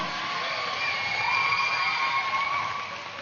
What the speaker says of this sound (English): A big round of applause for each and every one of you here.